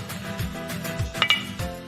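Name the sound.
mixing egg into creamed butter and sugar for chocolate cake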